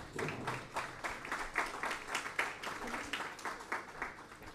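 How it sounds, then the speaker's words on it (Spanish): Audience applause at a Catholic public-life congress as a panel takes its seats, a steady wash of clapping from a mid-sized crowd in a hall, with some voices mixed in underneath. "Le damos un fuerte aplauso a nuestra mesa."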